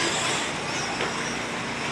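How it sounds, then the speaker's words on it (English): RC short course trucks race around an off-road track at a fall competition, a steady, fairly faint buzzing motor drone with a slight rise partway through. "That lap traffic stuck in between our first and second place running short course trucks."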